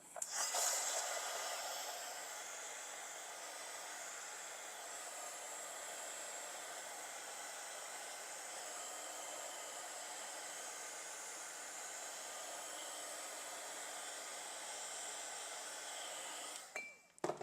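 A hair dryer blows steadily and close for about seventeen seconds, drying watercolor paint on a cotton face towel. Its even whooshing roar ends with a click as it switches off.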